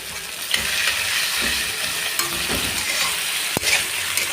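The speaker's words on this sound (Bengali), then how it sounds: "নেড়ে চেড়ে ভেজে নেবে" Prawns sizzle and fry in a hot pan while being stirred, a loud, continuous crackling hiss close up, broken by scraping utensil strokes and an occasional sharp clink.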